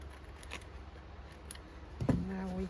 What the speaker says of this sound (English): Now here we are going to cut as we normally do.